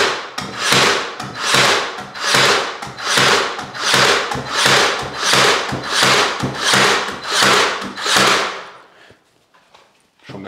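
An Einhell Fixetto 18/50 cordless nailer drives nails into wood in a steady run of about nine loud, evenly spaced shots, each a sharp punch with a brief mechanical whirr, then a short quiet tail.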